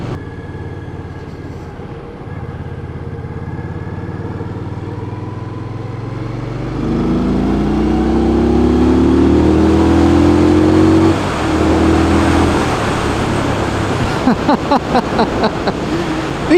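An Indian Scout motorcycle engine rumbles loud and close while being ridden. It climbs through a rising rev and holds a strong drone, then drops back, and a few sharp pulses come at the end.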